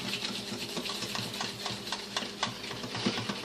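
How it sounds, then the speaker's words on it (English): A whisk beats a margarine and egg mixture in a bowl, giving a quick, steady run of scraping, tapping strokes close up, with no one talking. "Go at it with the whisk."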